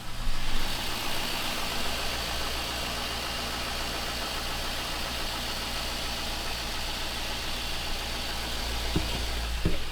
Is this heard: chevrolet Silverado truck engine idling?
yes